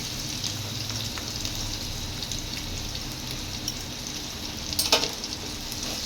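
Chana masala spices frying with tomato sauce in a pan, giving a soft, continuous sizzle with light crackles and a brief clatter of stirring near the end.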